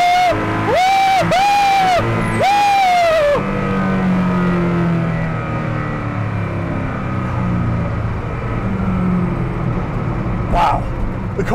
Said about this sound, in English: the sound even just going from like 20 to 60 and giving it a little throttle is pretty nice